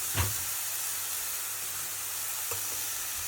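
Curry leaves and a ginger-garlic-chili paste sizzle in hot oil, giving a steady, fairly quiet frying hiss with a couple of faint clinks.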